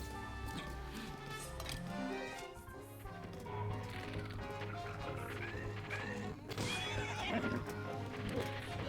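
A horse in a video game set in a forest whinnies loudly and its hooves clip-clop at a gallop over busy game music and effects, with a voice talking briefly.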